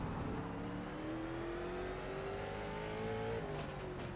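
A NASCAR Late Model race car engine drones in the iRacing video game, its pitch climbing gradually under throttle, with other cars' engines layered in a steady continuous roar.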